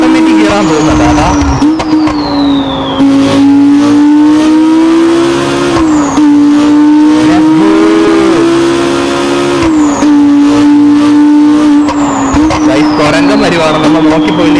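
A police Lamborghini in a video game driving with an automatic gearbox, its engine whine holding a steady pitch and then dropping sharply at each upshift, loud and continuous, with a voice talking over it.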